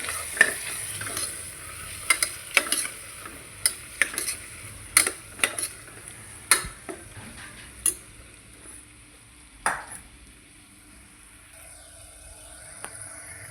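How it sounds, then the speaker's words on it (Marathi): A spatula stirs a leafy vegetable and lentil curry in a pan, making irregular scraping clinks against the metal over a soft, constant sizzle, with no talking. "पूर्ण भाजी गवळून घेते मी"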